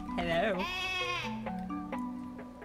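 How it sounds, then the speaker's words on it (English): A goat bleating in the video game Cult of the Lamb, one long wavering bleat up close, followed by a few fainter calls and sounds over a steady game tone. "Summon the goat."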